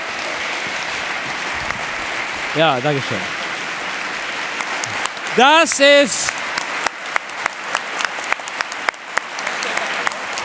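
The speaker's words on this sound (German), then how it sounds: "kräftig Applaus nochmal." Audience applause at a science slam award ceremony, a steady broadband patter running through the whole stretch while someone speaks over it, with a few sharper claps near the end.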